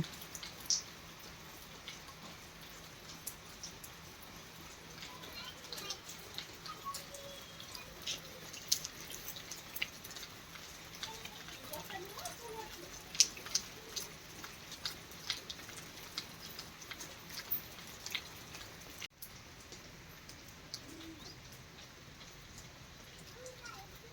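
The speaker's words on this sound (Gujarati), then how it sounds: "વરસાદ ઘાટો લાગે પણ આમ ઝીણો હે ને એટલે પાણી ન જલ્દી ઓલું થાય." Light fine rain falling steadily, a faint soft patter of scattered drops with occasional louder drips, continuing throughout with people talking quietly at times.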